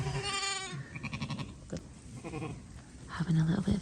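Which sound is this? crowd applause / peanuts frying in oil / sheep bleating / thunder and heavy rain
sheep bleating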